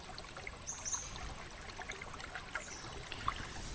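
Steady, soft rush of a small town creek flowing along a state park trail, a continuous watery hiss with faint trickles and a few distant birds chirping, no one speaking.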